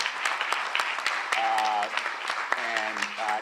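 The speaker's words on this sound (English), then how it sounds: "How about a big round of applause for Kika Matos" Audience applause at a press event welcoming home a teen detained by ICE, a steady patter of clapping with cheering voices rising over it partway through.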